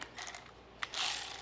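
A ratchet wrench with an 8mm socket works a bolt on a Cub Cadet lawn mower deck, giving quick close metallic clicking bursts, a short pause, then a longer steady run of ratcheting clicks.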